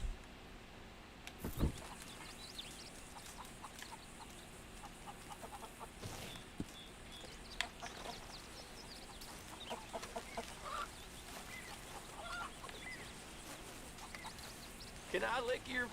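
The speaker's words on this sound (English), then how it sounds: "there's a whole bunch of chickens here" Chickens cluck at moderate distance in a Western-themed video game, with scattered clucks and a brief louder burst near the start, set against steady background ambience.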